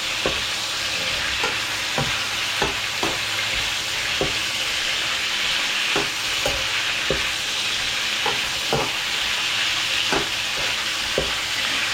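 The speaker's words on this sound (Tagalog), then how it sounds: "Kailangan mong haluin ng haluin. Para hindi siya manigit." Sugar-seasoned food fries in a pan with a strong continuous sizzle, punctuated by regular sharp spatula scrapes and taps as it is stirred again and again, close and loud throughout.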